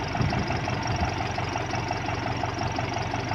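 An engine drives a high-speed irrigation water pump for a drip system on a cassava field, a steady loud continuous drone with a knocking rumble, close and unbroken with no talk.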